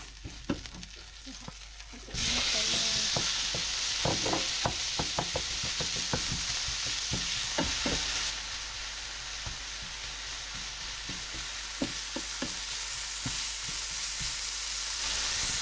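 Beef and vegetables sizzle steadily in a pan, with frequent scraping and clicking stir strokes over a constant hiss of frying.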